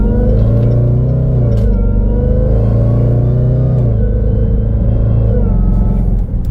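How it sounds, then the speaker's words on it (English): Loud Jaguar F-Pace SVR engine revving and rumbling close by, with shifting harmonic tones rising and falling as it accelerates, a faint high supercharger whine riding above. "You can hear that supercharger whine."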